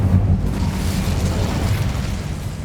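Casting the Incendio fire spell in Hogwarts Legacy gives a dense, rumbling whoosh of flame, loud and continuous for a couple of seconds with no talk.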